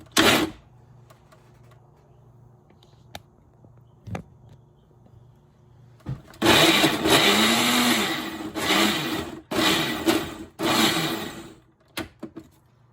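A kitchen blender whirs through homemade fresh salsa in several loud, close bursts, each a few seconds long with brief pauses between pulses, preceded by faint handling clatter.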